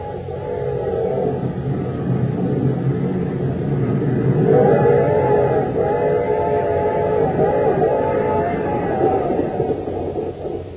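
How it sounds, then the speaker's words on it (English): An express train rumbles along in a 1945 radio drama, with a steady loud roar and a droning tonal whine layered on top, continuous throughout. "a fast express train roaring into Acme City"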